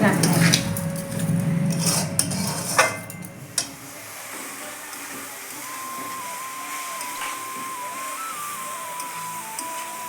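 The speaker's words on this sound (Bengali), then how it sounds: "গ্যাসটা একটু লো ফ্লেমে নিয়ে এটা পুরটা নাড়তে হবে" A spoon stirs a coconut and date-palm jaggery filling in a pan over a low flame, with clattering scrapes and knocks for the first few seconds before things fall nearly quiet under a faint steady tone.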